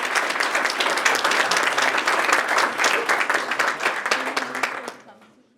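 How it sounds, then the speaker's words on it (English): An audience breaks into sustained applause after a software showcase presentation, dense even clapping that holds strong for about four seconds before tapering off and fading to silence. "One more round of applause for Carrie."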